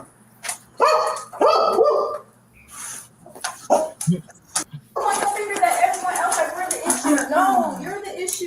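A dog barks several times nearby in a tense domestic argument, short sharp yaps mixed in with loud overlapping voices of people talking.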